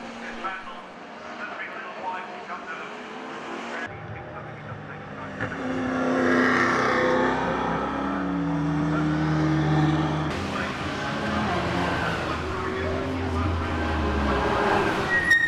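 GT race cars lap the Brands Hatch circuit, their engines droning and swelling as they pass, with a brief tire squeal, while a commentator talks over the noise throughout.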